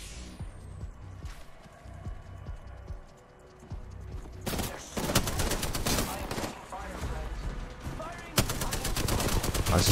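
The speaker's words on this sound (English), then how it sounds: "More for my Spitfire. It's gonna chug through bullets." Spitfire light machine gun firing in Apex Legends, quiet game ambience at first, then long loud bursts of rapid automatic fire close by.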